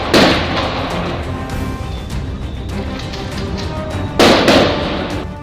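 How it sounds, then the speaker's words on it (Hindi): Gunfire in a police shootout with suspects, sharp loud bursts at the start and again near the end over a continuous noisy din, no clear speech. "मुल्जिमान की जानिब से मुस्तकिल गोलियां बरसती रहीं"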